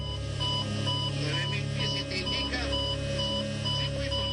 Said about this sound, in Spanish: el caos provocado por las alarmas se oye con escalofriante claridad